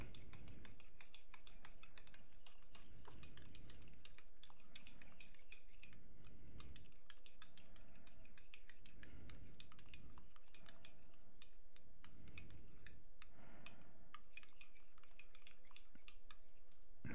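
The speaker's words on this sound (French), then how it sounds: "On mélange le tout." A utensil clinks and scrapes in a bowl while lemon juice and ground pepper are mixed into the other ingredients, producing faint rhythmic stirring strokes over steady background noise.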